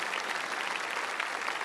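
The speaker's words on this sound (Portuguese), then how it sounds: "Salve de palmas para o Padre Joelson, Padre Eduardo Dogert." Applause from a church congregation honouring a priest during a Catholic worship programme, a dense steady patter of many hands clapping throughout.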